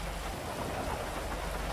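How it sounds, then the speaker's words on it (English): Steady hiss of rain falling in GTA 5, a broad continuous wash with faint low rumble beneath, alone and constant throughout. "Until it rains."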